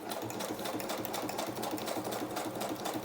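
A sewing machine stitching a fabric edge strip, a steady close mechanical whir with rapid needle chatter running continuously, no talking.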